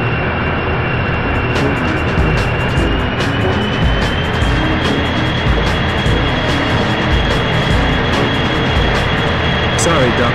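A jet airplane engine drones loud and continuous in the 007 Racing game on PlayStation 1, a constant whining rumble with voices speaking over it.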